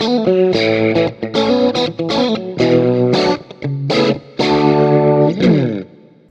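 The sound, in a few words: guitar tone through Axe-Fx II with added reverb block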